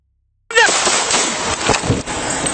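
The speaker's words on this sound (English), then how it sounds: "shots fired" Gunfire in a shootout between a deputy and a man armed with a shotgun, bursting in suddenly after silence with a loud sharp report followed by echoing, rapid cracks and a chaotic roar.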